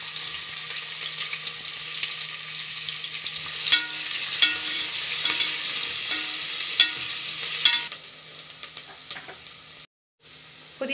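Finely chopped onions fry in hot oil with ground cinnamon and clove for a fenugreek-leaf mutton curry, sizzling steadily with periodic scraping stirs, the hiss dropping away near the end.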